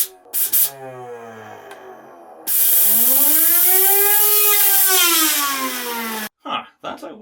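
A Lego bladeless turbine with PETG discs spins up loudly, its rising whine climbing in pitch, holding, then sagging before cutting off abruptly, followed by a few short knocks.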